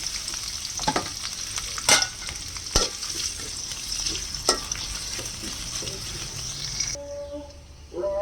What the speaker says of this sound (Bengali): এখন আমি পরিমাণ মতো তেল দিয়ে দিলাম, পেঁয়াজ কুচিটা দিয়ে দিলাম